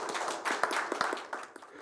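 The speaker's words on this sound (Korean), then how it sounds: "박수 부탁드립니다." A small audience at a Seoul city council policy forum gives soft, scattered applause, a brief patter of quiet, uneven claps.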